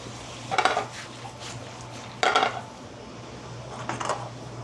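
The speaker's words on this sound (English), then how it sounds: "I'm gonna put some of these dishes down, kind of clean up as we go along." Dishes set down and tidied during cooking, giving a few close ceramic and metal clinks in short clusters over a low steady hum.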